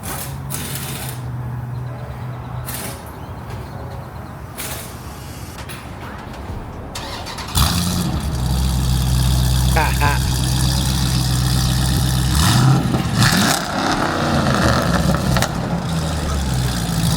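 A Jeep Grand Cherokee SRT engine with catalytic converter and mid muffler deleted idles roughly, then fires up louder and revs with a deep, raspy, unmuffled growl; a person talks over parts of it.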